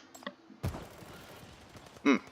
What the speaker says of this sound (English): Ceaseless gunshots are echoing in the comms